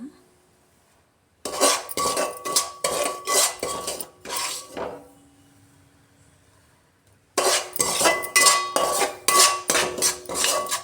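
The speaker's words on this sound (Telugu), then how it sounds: "కరసినూక ఫ్రై చేస్తున్నానండి." A utensil scrapes and stirs semolina (karasinooka) frying in a pan. The sound comes in two bursts of rhythmic, close metallic scraping and clinking, separated by a few seconds of near silence.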